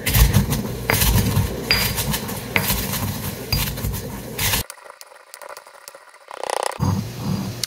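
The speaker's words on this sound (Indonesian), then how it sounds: "sambil kita gerus bawang putih yang tadi kita goreng" Repeated scraping and clinking of a hard utensil against a mortar, crushing fried garlic, with a brief quiet pause partway through.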